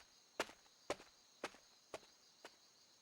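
Footsteps climbing apartment stairs in the game 999, five evenly spaced soft thuds about half a second apart over a faint steady background hum, alone with no voices.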